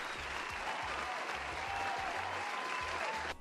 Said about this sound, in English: Let's give a round of applause to Raymond for his Pseudo-skeleton.